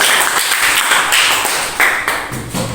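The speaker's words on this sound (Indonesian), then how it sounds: "Sekali lagi beri tepuk tangan untuk beliau." Audience applause at a school short-film staging of a youth congress ceremony, a dense continuous wash of clapping at steady loudness, with a few sharper bursts toward the end.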